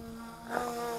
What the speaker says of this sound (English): And bringing the drone down